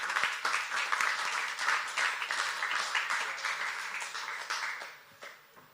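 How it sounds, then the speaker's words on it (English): Audience at an open-source conference meetup applauds a speaker, a steady wash of clapping at moderate distance that fades toward the end, with no talking over it. "Please give him a big round of applause"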